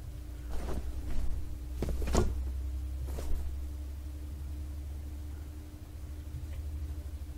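A door opens in the horror game Fear Extraction Point: a few soft knocks and creaks, the clearest near the middle, over a steady low rumbling ambient drone. No talking.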